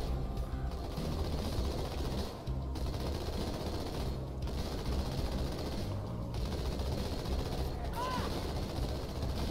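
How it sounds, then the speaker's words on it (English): Burst gunfire in Halo 2 Anniversary, dense continuous rattling of repeated short bursts with mechanical clatter, steady and fairly loud under a busy game soundscape. "why is he just burst firing?"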